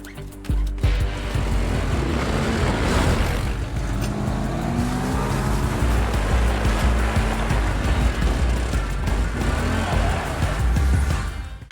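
Surf breaks on a beach in a film while ATVs run along the shore. Engine roar and crashing waves blend into a loud, continuous wash that lasts throughout, with no speech.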